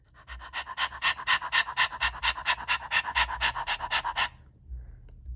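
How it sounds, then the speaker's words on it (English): Hounds pant hard and fast in a steady rhythm, about twenty quick breaths in close succession, loud and near, before the panting stops abruptly. "They panted with excitement."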